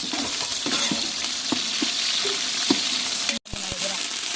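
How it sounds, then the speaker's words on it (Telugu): Green chillies and coriander being stirred in a frying pan for village-style pindi charu, a constant close sizzle with repeated clinking spatula strokes against the pan and a brief dropout near the end. "కొత్తిమీరపకాయ వేసుకోవాలి, కలుపుకోవాలి."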